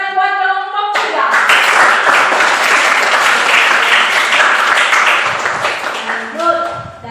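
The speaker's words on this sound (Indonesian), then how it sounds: "Tepuk tangan buat kelompok 3." A classroom of students claps for a presenting group, a dense burst of applause lasting several seconds, with a spoken voice briefly before and after.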